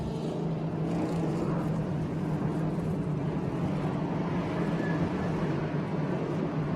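Race car engines rumble outside at a Bangsaen Grand Prix circuit, a steady low, dense roar heard from a distance that holds continuously without clear pass-bys.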